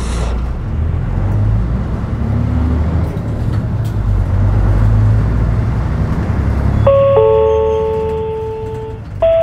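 A Shin-Joban Kotsu city bus on route 11 in Iwaki pulls away from a stop, its engine giving a steady low rumble throughout. A few clear electronic chime tones ring out near the end.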